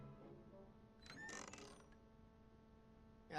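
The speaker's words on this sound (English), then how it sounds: "Kitchen door." A kitchen door creaking open in the video game Back to the Future: a faint, brief creak with a short mechanical rattle, set against low, quiet ambience.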